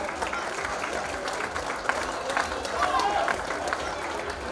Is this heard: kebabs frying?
no